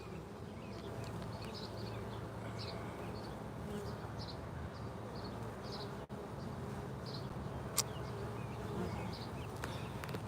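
A steady, dense drone of honey bees at their hive fills the air, with individual insects buzzing close by now and then and a brief click partway through.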